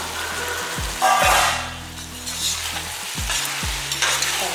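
Vegetables for sambar rice sautéing in a hot pan, with a steady sizzle and frying hiss, punctuated by a few scraping stirs of a spoon against the pan.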